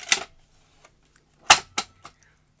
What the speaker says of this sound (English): if I put this VCR tape in